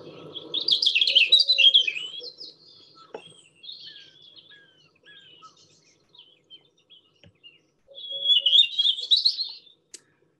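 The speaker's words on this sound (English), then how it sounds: "Of course, it's the Robin, that very kind of easygoing song." European robin singing in a garden, close and clear: a bright warbling phrase, then a quieter run of thin high notes with gaps, then another loud trilling phrase before falling silent.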